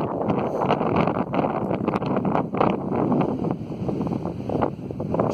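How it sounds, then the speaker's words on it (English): Strong wind buffets the microphone on a hilltop beside a fire tower overlooking New Brunswick, a loud, continuous rushing roar with gusty swells and no one speaking. "Sure is a little windy up here."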